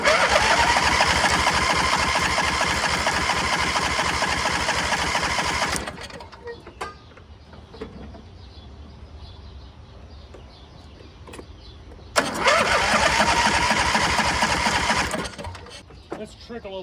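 An MTD garden tractor's small engine cranks over in two long bursts of steady mechanical churning, loud and close, with a quieter pause between where faint clanks and handling noises are heard.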